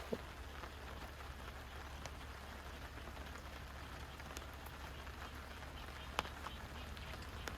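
Steady rain patters down over a campsite in a rainy-day camping outing, a soft continuous hiss with occasional closer drips, and no voices.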